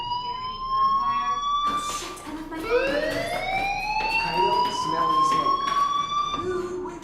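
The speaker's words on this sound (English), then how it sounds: "do you hear that fire alarm? That means you should be outside." A fire alarm in the video game Life is Strange wails with rising and falling siren tones, loud and continuous, while a voice talks over it.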